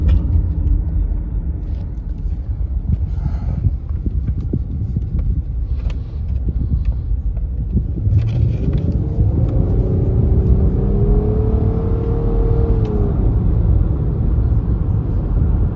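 Engine of a 2016 Nissan Quest SV minivan with an XTronic CVT during a test drive, heard from inside as a steady low rumble with a smooth rising whir as the van accelerates, no talking.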